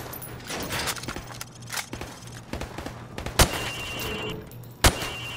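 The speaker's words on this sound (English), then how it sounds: "I want you to shoot the targets through the wood." Gunshots from Modern Warfare Remastered, fired through plywood at targets. A few quiet shots are spread across the stretch, and two sharp, bright cracks stand out near the end over low mechanical background noise.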